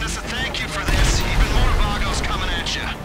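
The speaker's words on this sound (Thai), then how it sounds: "ทำไมรถระเบิดอ่ะ" A car blows up in GTA Online, a sudden heavy low boom about a second in over ongoing game noise, followed by rumbling, debris-like crackle, with players chattering throughout.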